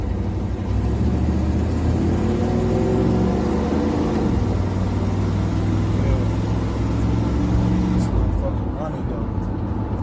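A 1994 Chevy Tahoe 1500 AWD 4x4 with the 350 (5.7) V8 runs on a test drive, producing a steady, loud engine drone with shifting tonal hum, while someone talks over it and the sound drops briefly near the end.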